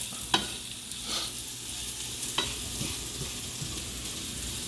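Brown sugar mixture simmering down in a pan, a steady low bubbling sizzle with a few faint stirring scrapes, close and without talk.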